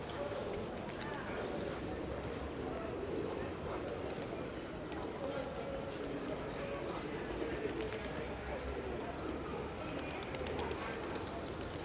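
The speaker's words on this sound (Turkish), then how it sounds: "Ne kadar çok kuş var." A dense, steady chorus of many birds, including pigeons cooing, fills the air continuously in Hopa, Artvin, with voices talking now and then underneath.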